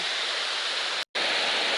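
A small waterfall on the Appalachian Trail, where two creeks merge, pours in a steady, loud broadband rush close by, cut by one brief silent gap midway.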